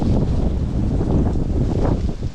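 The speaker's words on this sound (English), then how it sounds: "Man, it's windy." Strong outdoor wind buffets the microphone in a continuous low roar with gusty surges, loud and close, during stump-removal work in a yard with nearly bare trees.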